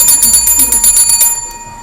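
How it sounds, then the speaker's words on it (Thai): A small bell is rung rapidly and loudly for over a second, its bright strikes blurring into a steady ring that then fades, with no voices. "ขอกระดิ่งก่อนขอกระดิ่ง"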